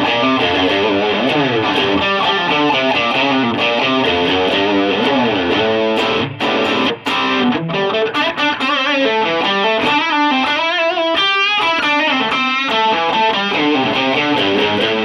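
A loud, distorted electric guitar plays continuously through a NUX Amp Academy amp simulator with a booster engaged and tone lowered, chords and riffs ringing with thick saturation.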